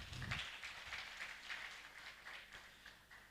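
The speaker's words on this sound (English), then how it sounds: "Please give them also an applause." Audience applause at a One Health conference for Horn of Africa universities in Borama, soft, steady clapping from a crowd that slowly fades.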